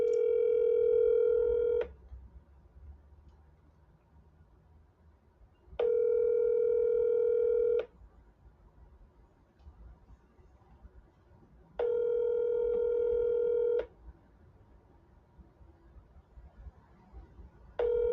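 A steady telephone dial tone sounds in repeated two-second bursts, each followed by a few seconds of quiet, the cadence of a ringing line on a call placed from a New York cell phone number. No one speaks.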